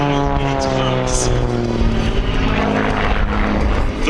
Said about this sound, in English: Combined with a 350 horsepower Lycoming AIO 580 engine